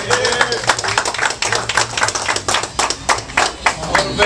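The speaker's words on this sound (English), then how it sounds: "Let's give him a big round of applause." Dense, lively applause from a crowd at a boxing press conference for the Havoc Boxing event, with many hands clapping continuously at close range and crowd voices mixed in.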